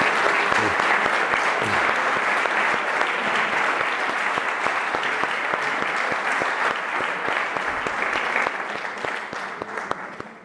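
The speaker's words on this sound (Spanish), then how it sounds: "Ah, vale, un aplauso." Steady applause from a lecture audience, dense, even clapping that holds for about ten seconds before thinning slightly near the end.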